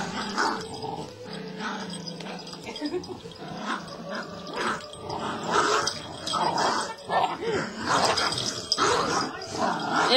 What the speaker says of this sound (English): Matt, you can just hear teeth snapping